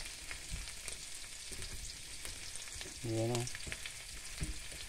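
Tomatoes frying in a pan for a saucy tomato-and-egg dish give a steady, close sizzle throughout, with a short stirring scrape and a brief voice around the middle.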